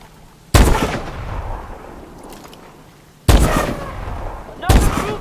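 Loud gunshots ring out in the shooter game Call of Duty: Advanced Warfare, three sharp close blasts spaced a couple of seconds apart, each trailing off into a ringing decay.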